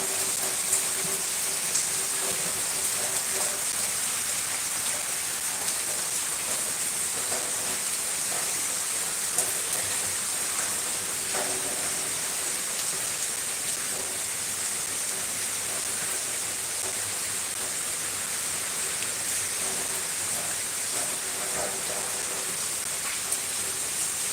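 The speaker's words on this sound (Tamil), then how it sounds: "செம்ம மழை அடிச்சுட்டு இருக்கு" Heavy rain pours steadily throughout, a dense, even hiss of water drumming on surfaces with no breaks, close and constant, with no voices.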